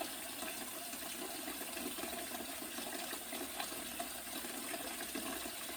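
Tap water runs steadily into a kitchen sink, filling it for rinsing vinegar off collard greens; a continuous, even hiss and splash lasting several seconds, fairly quiet and close, with no talking.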